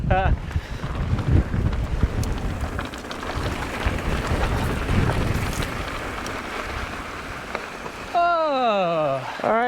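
Strong wind blowing on a mountain bike trail on the Palm Canyon Epic, a heavy, rumbling roar buffeting the microphone, before a person's voice comes in near the end.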